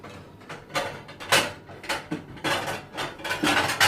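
Ceramic plate set down over a bowl in a home kitchen while making flapjack, a run of close, loud clinks and scrapes of crockery shifting and settling, no talking.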